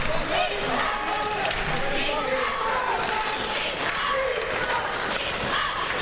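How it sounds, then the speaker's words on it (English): Icelandic home crowd cheering at an under-20 ice hockey game in Reykjavik, a steady, broad roar of many voices filling the arena throughout. "Now we get the Icelandic crowd going here."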